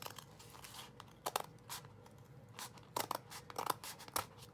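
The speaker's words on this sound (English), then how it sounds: "Okay, so I'm gonna cut that right there." Scissors snip through journal cover material in a quiet room, making a series of short, sharp crunching cuts in irregular clusters, close and fairly faint, with no voices.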